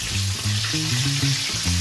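Food frying and sizzling in a hot pan, a close, crackling hiss with rhythmic low bumps from stirring or moving the food, steady and loud throughout.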